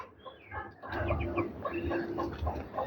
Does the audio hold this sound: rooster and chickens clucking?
yes